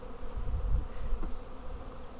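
Honey bees buzzing steadily while a spring hive is opened and worked, a dense low droning hum close by and continuous with no voices.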